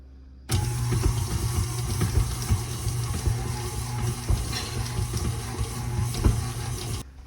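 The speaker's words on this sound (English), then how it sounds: "we're going to mix these up for about 5 to 7 minutes until we have everything all nice and beautiful and creamy" An electric mixer beating butter and brown sugar for a pecan Bundt cake batter whirs on abruptly and runs as a continuous motor drone, with faint rattling of the beaters and no talking.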